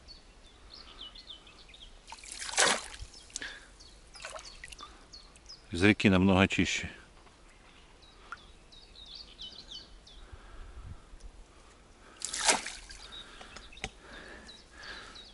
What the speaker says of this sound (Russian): Что, буду продолжать вычерпывать.